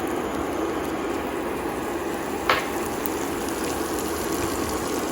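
Butter melting in a pan with a steady, soft sizzle that holds evenly throughout, plus one brief sharper crackle midway; no voices.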